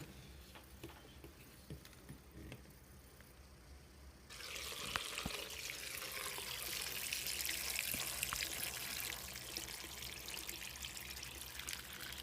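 Dirty water from a portable washing machine drains into a sink, starting as a faint trickle and then, after a few seconds, a steady loud rushing pour that continues without talk.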